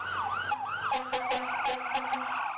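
A loud, close fire truck siren wails up and down while several sharp, blaring horn blasts cut in over it.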